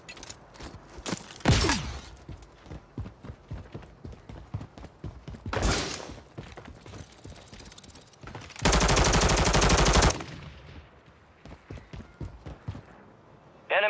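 Submachine gun fire in a Call of Duty match, with a few loud bursts early on and a dense, sustained burst of rapid shots in the middle, alongside other gunfire and game effects.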